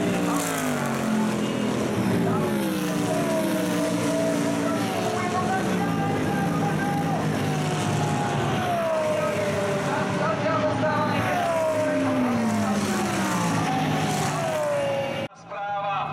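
Racing cars roaring around a circuit during a race, loud engines sweeping up and down in pitch as they shift and pass, under continuous commentary.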